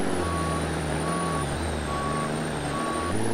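A Kenworth C500 truck with a double trailer backs up on a mountain road, its reversing alarm giving evenly spaced loud beeps over a steady heavy diesel drone.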